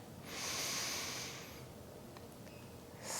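A deep inhalation before chanting in a Kundalini yoga session, an airy breath drawn in through the nose that swells over about a second and a half, close and clear, with a second breath starting at the end.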